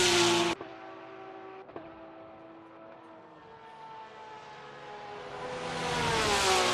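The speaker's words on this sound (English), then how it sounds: "Look at that Porsche. It's a beautiful car and the sound is absolutely amazing" A Porsche race car at Spa-Francorchamps near Blanchimont, its engine note a harmonic whine that dips as it passes, then swells louder and higher as it accelerates away amid circuit ambience.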